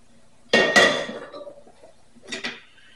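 Soup ingredients, including garlic-roasted leeks for a vichyssoise, drop into a pot of warmed chicken stock. A close clattering splash is followed about two seconds later by a second, shorter one.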